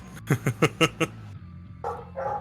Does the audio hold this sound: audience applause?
no